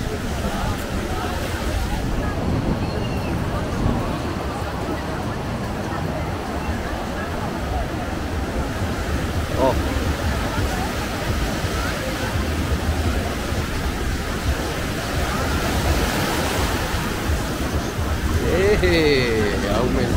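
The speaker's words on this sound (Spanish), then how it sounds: "Aumentando las ondas aquí." Ocean surf rolls onto the beach at Itapema as a continuous broadband wash of waves, with a faint background murmur of voices and people talking over it throughout.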